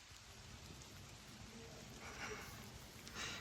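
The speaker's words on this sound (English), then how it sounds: "Rain." Light rain patters steadily and faintly outdoors on a dog walk, a soft continuous hiss with a few brief brighter drips near the end.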